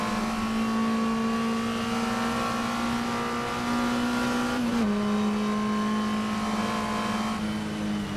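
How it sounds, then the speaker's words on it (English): Historic race car in a racing video game, a steady droning engine note held at high revs along a straight, one brief gear shift dipping the pitch midway, alone and fairly loud with no talking. "Down the Levant straight, powering through the gears"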